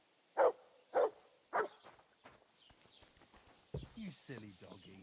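Three loud, evenly spaced dog barks in the video game Kingdom Come: Deliverance II at the start, followed by a quieter stretch of game sounds and soft chattering voices.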